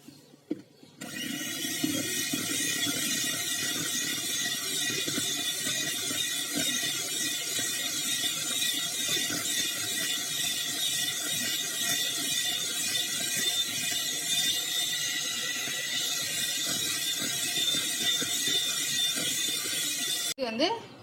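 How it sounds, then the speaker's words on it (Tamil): Electric mixer beating sugar into cake batter for a chocolate sponge cake, a continuous whirring drone that runs for about twenty seconds, steady and close, starting and stopping abruptly. "இப்போ நம்ம சுகரை கொஞ்சம் கொஞ்சமா சேர்த்து நல்லா நம்ம பீட் பண்ணிக்கலாம்."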